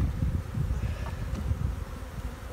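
Agitated honeybees buzzing thickly around an open hive box on an overcast day, a dense, continuous close drone with no talking.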